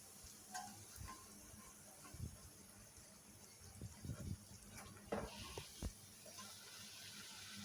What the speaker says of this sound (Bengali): এইবার আমি কচুরিগুলো তেলের মধ্যে আস্তে করে ছেড়ে দেবো।